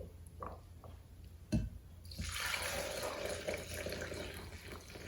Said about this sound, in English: I'm going to pour it through the fine mesh strainer without overflowing your bottom bowl here.